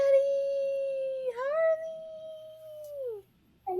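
A cat lets out one long, drawn-out meow that rises, holds steady and slides down at the end. It sounds clear and close against a quiet background.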